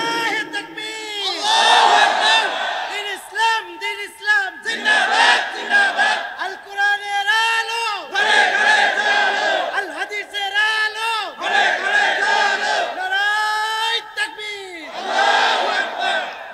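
A large crowd at a Bangladeshi Islamic gathering roars takbir in repeated loud, sustained unison shouts, several waves rising and falling in close succession.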